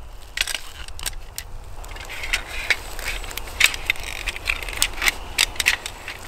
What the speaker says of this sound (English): Now we just would put our crossbar back together Put the ranger bands back in place to hold this all together.